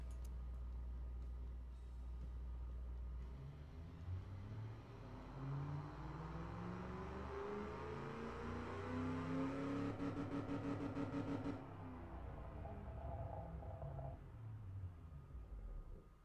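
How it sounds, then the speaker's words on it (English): A simulated 1988 Mustang 5.0 V8 in the game Automation, fitted with a three-way catalytic converter and no second muffler, revs up through rising engine sweeps, holds a loud climb, then settles back toward idle, close and continuous. "Three-way catalytic converter, reverse flow, no second muffler, +6 quality. And this is what it sounds like."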